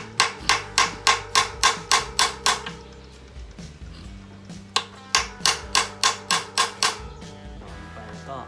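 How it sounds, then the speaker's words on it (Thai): A hammer drives a star nut down into an aluminium bicycle fork steerer with a quick, evenly spaced run of sharp metallic blows. A brief pause follows, then another rapid series of close, loud strikes. "ตอกตัวสตาร์นัทที่อยู่ด้านในนะครับ"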